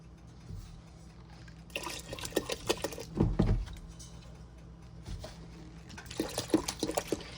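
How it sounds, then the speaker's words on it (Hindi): Water pours into a besan and buttermilk mixture in a pot for pakora kadhi, a splashing, gushing stream in two bursts with a quieter gap between, close and without talk. "तो अभी इसमें पानी डाल लेते हैं।"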